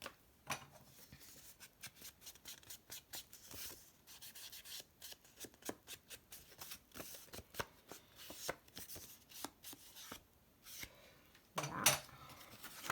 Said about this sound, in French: je vais d'abord le plier dans ce sens.